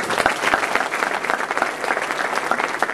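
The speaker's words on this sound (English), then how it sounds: "I think that deserves a round of applause." Convocation audience applauding steadily for several seconds, a dense, fairly close wash of clapping from a large crowd with no talk over it.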